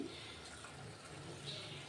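Coconut milk, ground from fresh coconut, is poured into a cooking pot for palak rice, giving a soft, steady liquid pour with a faint splash that runs throughout.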